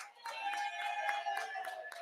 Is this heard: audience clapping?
yes